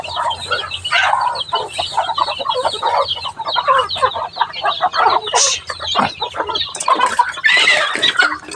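Backyard chickens cluck and squawk steadily in a busy, close chorus, with a louder burst of agitated calls near the end and no talking.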